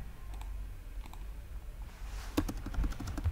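Close computer keys click out network commands, first as a sparse scattering of taps and then as a quicker run of typing toward the end over a low steady hum.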